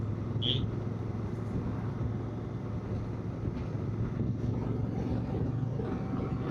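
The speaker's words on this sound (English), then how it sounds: "This bike is pretty cool riding an Africa Twin again." A Honda Africa Twin motorcycle rides near the Lake of the Ozarks, its steady engine drone and low rumble mixed with heavy wind buffeting across the whole stretch, with no talk.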